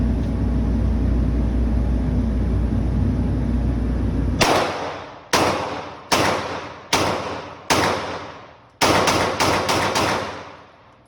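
A full-size CZ P10F pistol fires nine close, loud shots outdoors: a few slow, evenly spaced reports, then a quicker cluster, each with a short ringing decay.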